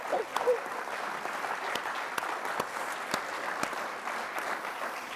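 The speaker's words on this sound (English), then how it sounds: "Let's have a round of applause," Steady applause from a sizable audience at a peace conference welcome ceremony, dense clapping sustained throughout with a few sharper claps standing out.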